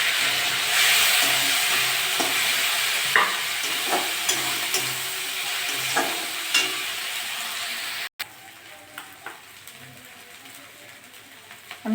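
Teasel gourd seeds sizzling in a frying pan with fried shrimp and onion paste, a steady hiss broken by sharp scrapes and taps of stirring, close and unaccompanied by talk.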